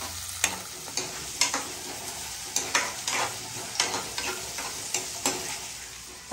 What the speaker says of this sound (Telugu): మనం ఈ బంగాళదుంప ముక్కలు వేసేసుకుంటే ఈ ఉల్లిపాయలు బంగాళదుంప ముక్కలు మగ్గుతాయి